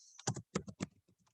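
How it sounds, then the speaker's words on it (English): Short burst of computer keyboard typing, a handful of quick, close key clicks in an irregular rhythm while a team name is entered. "Here, you will type in the team name"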